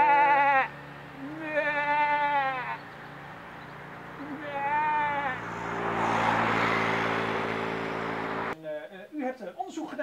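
Sheep bleat several times in clear, wavering calls, some close and loud with pauses between, while a faint background hum runs under them and a brief burst of other noise interrupts near the end.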